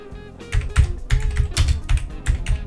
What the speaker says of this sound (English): And a good test of the keyboard here.